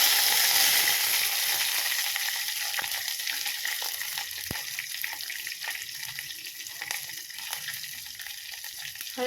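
Water poured into a hot tempering of mustard seeds, cumin and curry leaves in a pan sizzles steadily, with a loud crackling hiss that slowly eases and no voices over it.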